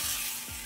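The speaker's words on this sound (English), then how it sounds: "Ooh, look at that sizzle." Smashed potatoes sizzle in hot beef tallow in a pan, giving a brief, steady hiss of frying with no voices.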